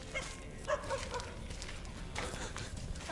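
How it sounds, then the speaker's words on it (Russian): A dog off its chain barks at an abandoned ship graveyard. The barks come in a few short bursts early on, partly buried in steady outdoor noise and wind. "Там собака."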